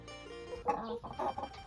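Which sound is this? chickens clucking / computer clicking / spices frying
chickens clucking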